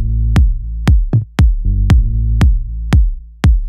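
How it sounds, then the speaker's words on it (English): A full, warm deep house bass line in an organic house style, played alone as a loud, deep, plucky pattern. About eight evenly spaced hits land over a few seconds, each with a punchy attack and a short tail. "you usually have a very full, warm bass, and it sounds like this"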